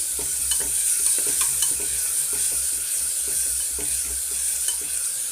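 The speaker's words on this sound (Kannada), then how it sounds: "ಇದನ್ನು ಹಾಕಿ ಇವಾಗ ಚೆನ್ನಾಗಿ ಮಿಕ್ಸ್ ಮಾಡ್ತೀನಿ" Yogurt is stirred into a veg biryani mixture in a pressure cooker, with quick rhythmic scraping strokes over a soft, constant sizzle, heard up close.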